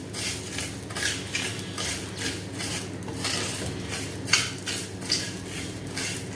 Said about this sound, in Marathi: खुरासणे छान भाजून घ्यायचे आहेत